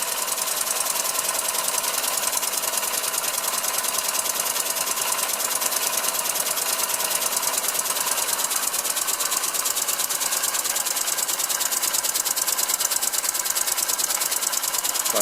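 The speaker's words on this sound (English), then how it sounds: "Powerful engine." A hand-built oscillating engine from 1912 runs on compressed air. It gives off a rapid, perfectly regular ticking chuff that stays constant and close for the full fifteen seconds, with no talk.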